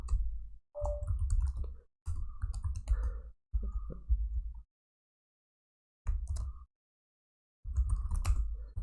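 Keys clatter on a computer keyboard in quick bursts of close, crisp clicks separated by short pauses, the typing coming in several clustered runs with silent gaps between them.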